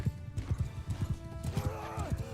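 Horse hooves clip-clop in a steady, fast galloping rhythm in the modded Bannerlord 1.1.2 video game, close and continuous, with a horse whinnying near the end.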